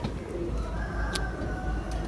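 Pigeons coo softly and steadily, a low throaty murmur repeating over a constant background hum.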